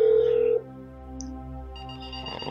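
Phone call in GTA 5: a steady electronic tone holds for about half a second, then cuts off into a low hum with a brief faint chirp and a soft background bed.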